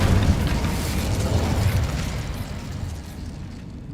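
Incendio fire spell in Hogwarts Legacy, a loud roaring burst of flame with a deep rumbling body that sustains for a couple of seconds and then gradually fades out.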